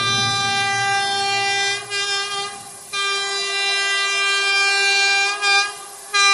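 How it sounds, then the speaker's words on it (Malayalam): A train at Thalassery railway station sounds a long, loud, sustained horn blast, pausing briefly twice before resuming, as it begins pulling out of the platform, close and dominant with no talk. "തലശ്ശേരി റെയിൽവേ സ്റ്റേഷനിൽ നിന്ന് ചൂളം വിളിച്ച് ട്രെയിൻ മേലെ ചലിച്ചു തുടങ്ങി"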